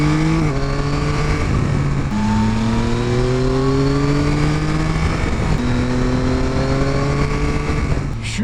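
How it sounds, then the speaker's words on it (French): Yamaha Tracer 9 GT 2022 motorcycle with a CP3 three-cylinder engine under way, its loud close engine note rising through repeated gear changes with wind rush throughout. "Étonnamment à l'aise avec cette moto"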